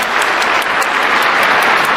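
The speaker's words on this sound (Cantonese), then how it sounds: "俾啲掌聲佢哋出嚟啦！" Steady, dense audience applause fills a Cantonese opera theatre in Guangzhou, a close, loud wash of clapping hands sustained without a break and with no voices over it.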